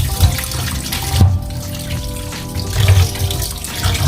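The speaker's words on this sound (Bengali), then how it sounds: "মাংসটা ভালো করে আগে ধুয়ে নেবো, যেন জার্মস টার্মস কিছু না থাকে।" Beef for curry is rinsed by hand under a running kitchen tap, with steady splashing water and irregular sloshing bursts as the meat is turned, loud and close, with no talking.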